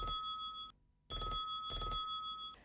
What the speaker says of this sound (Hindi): फोन ही नहीं उठा रहा कोई